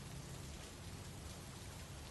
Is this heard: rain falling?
yes